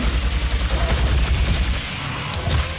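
Dense rapid rifle gunfire in the DOOM video game, a loud continuous barrage of automatic shots with heavy low-end thump running through the whole stretch.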